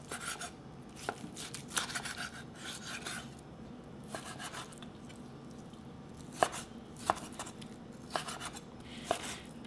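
A knife chops vegetables and pork into small pieces for curry, with faint, uneven taps on a cutting board coming in loose bursts over a quiet kitchen background.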